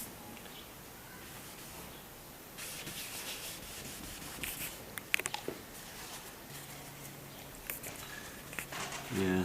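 Acetone on a cloth rubs sealer residue off a Honda Civic FN2 body panel during a Mugen bodykit fit, a soft continuous scrubbing close by with a few brief knocks and taps.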